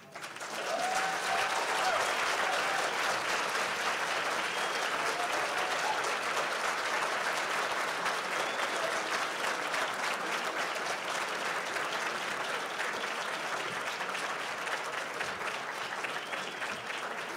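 An indoor audience applauds a poem reading at a symposium, with dense, sustained clapping that holds steady for the whole stretch and thins slightly toward the end.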